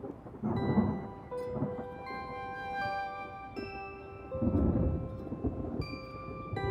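Thunder rumbles in two heavy swells beneath a soft melodic music bed, with a steady wash of rain throughout a Korean drama scene; no one speaks.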